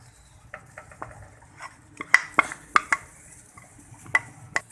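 A metal spoon stirs ground onion into beef pasanday in a pot, giving scattered clinks and scrapes against the pot, fairly close and moderately loud, with no talk.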